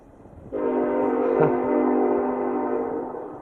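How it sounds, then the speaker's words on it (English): A train sounds a loud, sustained horn blast that starts abruptly and holds for about three seconds, easing off slightly toward the end. "And that is a train, obviously."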